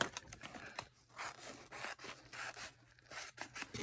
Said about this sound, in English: Now I'm going to cut this now with my scissors